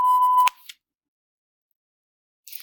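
A single sharp electronic beep lasting half a second, followed by a tiny click, then near silence and a faint click at the end.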